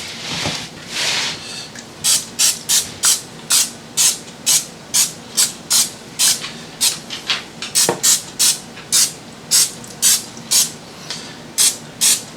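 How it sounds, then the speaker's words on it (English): Repeated short bursts of butter-flavored aerosol cooking spray onto raw chicken in a quick, regular rhythm, close up, after a brief rustle at the start. "you're just going to spray this buttered spray all over the chicken."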